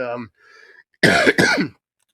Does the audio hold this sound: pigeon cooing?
no